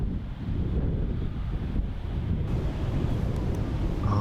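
Strong wind blusters across an open outdoor disc golf course at Llewellyn, a continuous low roar of gusts buffeting the microphone with no voices heard.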